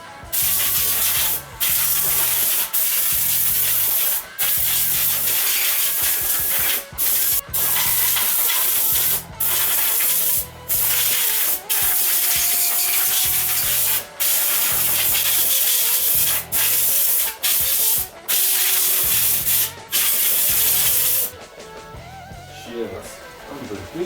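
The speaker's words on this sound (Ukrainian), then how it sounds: "Буду пробувати заливати, фарбувати." Repeated bursts of spray paint hiss from a can onto a surface, close and loud, separated by short pauses, with someone talking now and then between the sprays.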